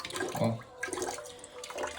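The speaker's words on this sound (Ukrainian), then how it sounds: "Щось булькотить." Water gurgles and bubbles faintly inside a drained water heater tank as air gets in during a replacement, with irregular soft glugs over a quiet background and no speech.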